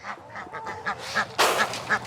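Hungry chickens on a homestead wait to be fed, giving a quick series of close, shrill squawks and honking calls in an uneven rhythm, loudest near the end.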